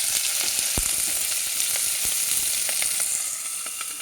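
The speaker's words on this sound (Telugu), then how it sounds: "ఉల్లిపాయలు వేయండి, ఇవి వేసుకొని వేయించుకోవాలి." Onions fry in oil with a tempering for stuffed brinjal curry, a constant loud sizzling hiss broken by scattered sharp pops and crackles, fading slightly toward the end.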